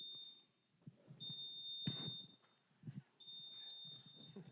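A smoke alarm beeps in a steady, continuous high-pitched tone that drops out briefly and returns, with muffled low thumps and rustling beneath it.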